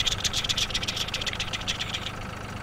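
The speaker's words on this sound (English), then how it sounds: "My tractor keeps breaking." A tractor engine from a farming video game runs steadily with a low rumbling drone and a rapid rattling chatter throughout, fairly close and with no talk over it.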